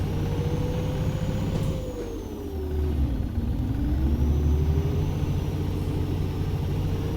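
A Peterbilt 386 with a Paccar MX-13 diesel rated at 510 horsepower in American Truck Simulator drones steadily and loudly up close, its engine pitch dipping and climbing as it shifts and pulls slowly under a heavy load.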